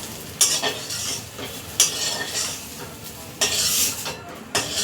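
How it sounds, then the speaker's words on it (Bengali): Soybean chunks fry in hot oil in a pan under a continuous sizzle, broken by a few loud scraping strokes of a spatula stirring against the metal. "সয়াবিনটা একটু ভালো করে ভাজতে হয়"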